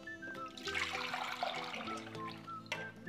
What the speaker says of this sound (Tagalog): Buhos na natin tong gulaman gata.